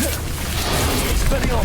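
Expelliarmus disarming spell cast in the Hogwarts Legacy video game on Switch, a dense continuous magical blast with booming low rumble and crackling bursts, filling the whole moment alongside a game voice.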